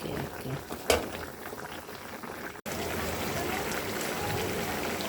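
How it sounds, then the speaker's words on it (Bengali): A pot of katla fish and Malabar spinach curry bubbles on the stove. A softer simmer with a brief clink gives way to a louder, steady bubbling roar. "বলক এসে গিয়েছে, এখন শাক দিয়ে দিব।"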